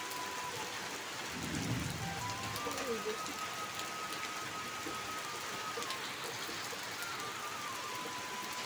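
Steady midday rain falls on surfaces in a village, a constant even hiss with dense patter throughout, and a low rumble of distant thunder early on.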